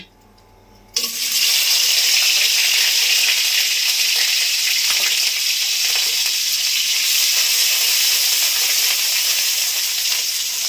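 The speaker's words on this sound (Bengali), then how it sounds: "তেলে এবারে দেব পেঁয়াজ বাটা" Onion paste hits hot oil in a pan for a crab and potato curry, bursting into a loud, steady sizzle after a brief quiet start and holding strong and close throughout, with no one talking.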